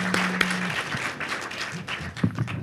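Applause at a university talk on aerospace and business, as an audience member comes forward to ask a question: scattered, moderately faint clapping from a mid-sized crowd with brief murmurs and a low steady hum underneath.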